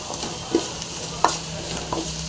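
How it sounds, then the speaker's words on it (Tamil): Spices fry in a pan for a bajji green chilli gravy, a soft steady sizzle broken by a few close spoon-stirring scrapes and knocks. "எல்லாத்தையும் போட்டு நல்லா ஃப்ரை பண்ணிடலாம்."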